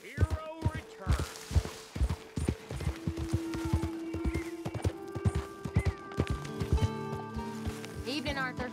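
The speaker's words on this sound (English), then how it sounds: "Whoa, that's a big horse. That is a big horse." Horse hooves clip-clopping in a steady rhythm in the video game Red Dead Redemption 2, close and clear, with a whinny and a sustained tonal hum near the end and occasional talk.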